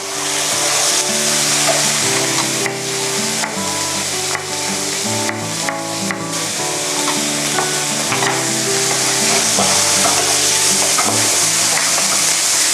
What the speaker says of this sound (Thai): เราก็เอาหมูสับค่ะ ลงไปผัดคลุกกับกระเทียมค่ะ